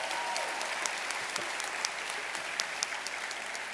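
Steady applause from an audience at an education awards ceremony, a dense wash of many hands clapping at moderate distance throughout, with no voices standing out.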